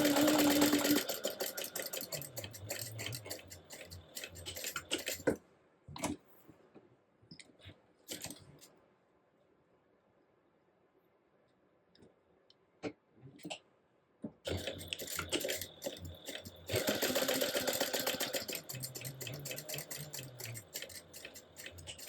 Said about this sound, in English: I will stitch 1/8 of an inch away from both long sides